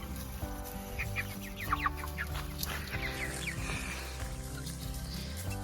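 Speckled Sussex hens and other pasture-raised chickens cluck and murmur steadily nearby, with overlapping soft calls and a few brighter squawks over a quiet outdoor background.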